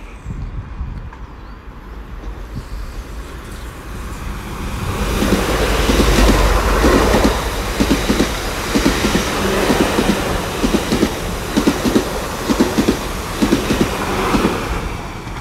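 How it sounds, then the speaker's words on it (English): South Western Railway passenger train to Weymouth from London Waterloo passing at Millbrook on the South Western Main Line, a loud close roar that swells in with rhythmic clickety-clack of wheels over rail joints. "coming up right now would be a slightly late South Western Railway service to Weymouth from London Waterloo"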